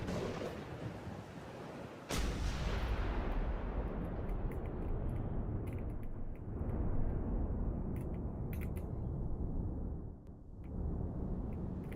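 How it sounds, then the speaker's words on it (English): Heavy gunfire in a video game: a sharp blast opens a dense, roaring barrage of rumbling shots and booms that stays loud and continuous, thinning briefly near the end before swelling again. "Gunfire! This way, fast!"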